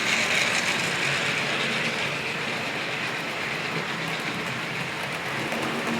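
A Hornby Pannier L90 model steam locomotive runs round a layout track, making a steady rolling rattle and rhythmic clicking of small wheels over rail joints, with faint squeals and no voices.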